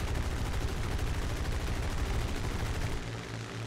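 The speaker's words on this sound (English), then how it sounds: "And that was a lot of bullets sprayed." Aircraft machine guns spray long continuous bursts in a realistic-mode air combat game battle, a dense, steady rattle that stays loud and close before easing slightly at the end.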